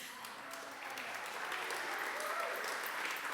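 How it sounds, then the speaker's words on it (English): Applause at an anniversary celebration for Lung Ha theatre company, a steady wash of clapping from a gathered audience, moderately loud and sustained throughout without a break. "you should really give yourself a round of applause for that"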